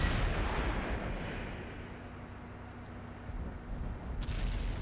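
A Chieftain Mk.6 tier 10 heavy tank fires its main gun in World of Tanks to knock down a house, giving a deep rolling boom with low rumble that swells again near the end.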